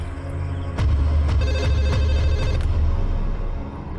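A telephone rings with a repeated electronic ringtone pulse, loud and close over a low steady hum, with no talking.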